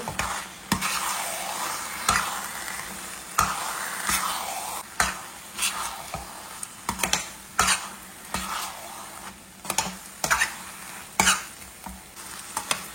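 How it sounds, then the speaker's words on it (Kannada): Thick Kashi halwa is stirred in a pan with fried cashews folded in: a low bubbling sizzle is punctuated by a dozen or so regular scraping ladle strokes, about one per second, with no talk. "ಫ್ರೈ ಮಾಡಿದ ಗೇರು ಬೀಜ ಹಾಕುವ. ಮಿಕ್ಸ್ ಮಾಡಿ."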